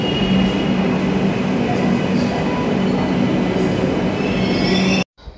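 A metro train rumbles past at close range with a steady roar and faint squealing wheels, then cuts off abruptly.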